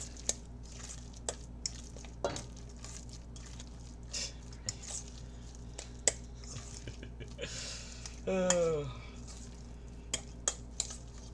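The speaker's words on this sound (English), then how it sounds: "small pinch of flour. And we'll stir it in real good." Flour is stirred into a cooking mixture with soft scraping and squishing in a pan, faint clinks of a utensil, and a brief louder clatter near the end, all fairly quiet and close.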